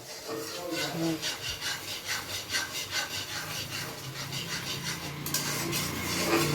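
Vegetables are stirred and sautéed in a pan with rhythmic rubbing scrapes of a spatula, roughly two strokes per second, over a steady sizzle. The sound is close and continuous, with no clear talk.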